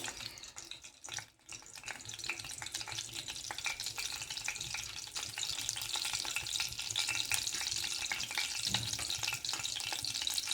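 Cumin seeds crackle and sizzle in hot oil, a faint, close crackling broken by small pops, with a brief dip early on before the sizzle grows steadier and fuller; no one speaks.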